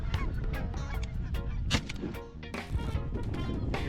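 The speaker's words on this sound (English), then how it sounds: "Your first goose? That's my first goose." A goose honks repeatedly and loudly at close range, a rapid series of harsh nasal calls with only brief pauses between them.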